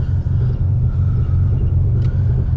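A loud car engine idles and revs close by with a steady low rumble, pulsing slightly in rhythm, with no voices over it.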